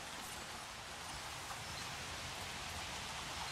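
Steady rain falling in the dinosaur park game Jurassic World Evolution, a dense, even hiss of rainfall on surfaces that holds at a constant level throughout.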